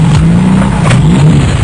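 An older car engine from the 1960s revs loudly and steadily up close as the driver tries to pull away, holding a rough, wavering drone throughout.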